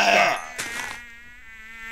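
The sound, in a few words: mosquitoes buzzing in Minecraft video game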